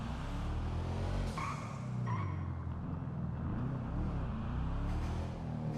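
Karin Sultan Classic, a classic Subaru-style rally car, driving in GTA Online with a steady engine drone throughout and brief tire squeals partway through, close and continuous.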